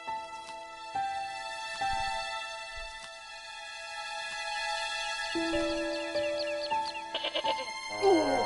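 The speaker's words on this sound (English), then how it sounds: "Hey, Billy. The goat responded with a cool and penetrating stare" A goat bleats in the video game Broken Sword: Shadow of the Templars, with several wavering bleats woven through sustained tonal game music, fairly close and clear.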